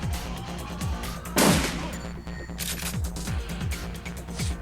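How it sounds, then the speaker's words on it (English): A single sharp pistol gunshot fired in a video game bursts out near the start, loud and close, over steady game music and a low rhythmic background. "he shot me with a pistol"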